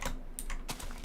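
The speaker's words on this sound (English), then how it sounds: "I do be clicking on my keyboard." Computer keys clatter in a quick, close run of light clicks and taps, loud and alone with no voices.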